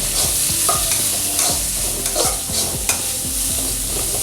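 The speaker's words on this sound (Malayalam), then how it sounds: "ഒന്ന് ഇളക്കി കൊടുക്കാം തുടർച്ചയായിട്ട്." Onions frying with a little salt in a pan for Kerala-style chicken stew, stirred continuously: close, repeated scraping spoon strokes over a steady sizzle, with no talking.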